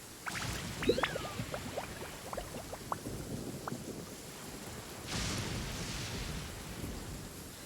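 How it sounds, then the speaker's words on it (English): Heavy rain falls in Genshin Impact, a dense steady patter with a few brief droplet ticks, heard alone at a faint level. "This heavy rain must be quite an inconvenience for you."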